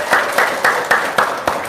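An audience at a religious talk show claps in rhythmic bursts, loud and close, with steady beats repeating about every quarter second.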